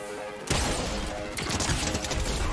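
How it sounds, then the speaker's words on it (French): Rapid SMG fire in Fortnite bursts in loud and close at half a second, a dense unbroken rattle that keeps going to the end with a brief lift in intensity midway. "Oh, elle est trop forte cette SMG."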